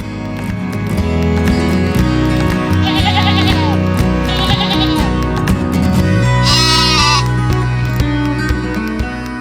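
Sheep bleating repeatedly at a livestock export inspection facility, several animals calling loudly and close, overlapping one another over a steady background din.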